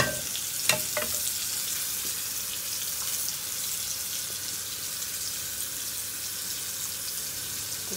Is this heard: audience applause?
no